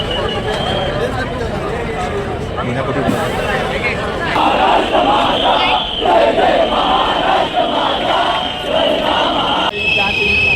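Large crowd at the Lalbaugcha Raja immersion procession near the Opera House signal in Mumbai, a loud dense roar of voices and chanting, with a person talking close by over the din.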